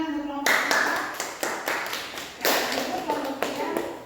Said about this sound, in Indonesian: Oke, tepuk tangan untuk kelompok kita.